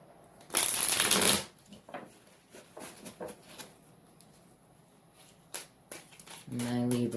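Tarot cards are shuffled in a short loud riffling burst near the start, followed by softer handling taps and card slaps as a person talks.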